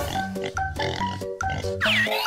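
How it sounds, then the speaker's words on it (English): A cartoonish pig oinks in a few short grunting bursts over a steady, busy musical backing, close and fairly loud throughout. "Pig."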